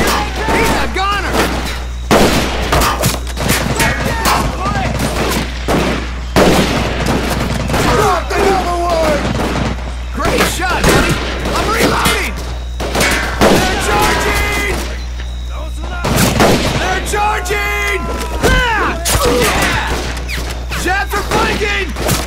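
Heavy gunfire rages in the World War II shooter Medal of Honor: Pacific Assault, with bursts of rifle and machine-gun fire, booms and crashes forming a loud, dense, continuous battle din while soldiers shout over it.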